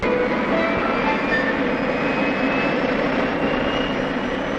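A Boeing 707 jet engine runs with a loud, continuous roar and a whining high-pitched tone layered on top, steady and close throughout.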